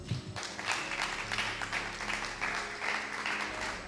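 Church congregation applauding at a Messianic service, a steady wash of many hands clapping for several seconds with no speech over it.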